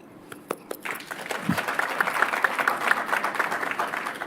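An audience at a healthcare worker appreciation event applauds hospital medicine ward staff, scattered claps at first building into sustained, fairly even applause from a moderately sized crowd.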